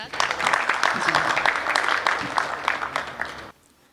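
An audience at a public speech gives a loud round of clapping that holds steady for several seconds, then stops abruptly into near silence.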